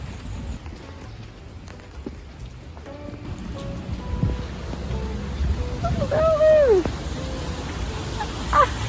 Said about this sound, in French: Donc c'est parti sous la pluie.